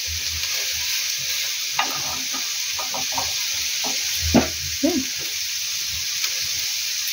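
Dried chilies and garlic cloves dropped into boiled greens in a hot pan, giving a steady loud sizzle with a few soft thumps and stirring scrapes scattered through it.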